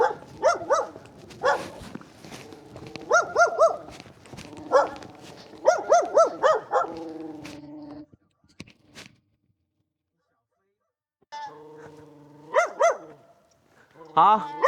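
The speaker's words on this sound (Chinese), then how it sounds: "不要汪汪了" A dog in a quiet mountain village in Hunan barks repeatedly in clustered bursts, fairly close, with pauses between volleys and a brief silence before barking resumes; people talk in between.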